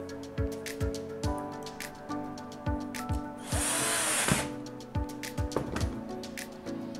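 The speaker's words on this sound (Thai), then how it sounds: "ทำการยึดสกรูเข้าไปนะครับ" A power drill drives screws to fit a deadbolt latch into a door, heard as a series of short, rhythmic whirring bursts close by, with one longer, harsher burst midway and no talking.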